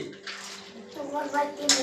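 Water splashes and runs while items are washed during a home puja, the sloshing close and continuous under a person talking and a voice.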